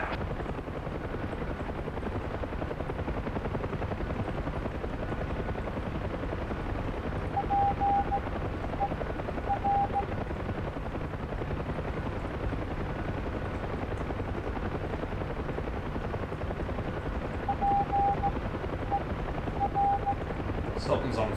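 A UH-1 Huey helicopter in the DCS flight game comes in to land on a pad, its rotor thumping in a loud continuous drone with a few brief tonal beeps over it.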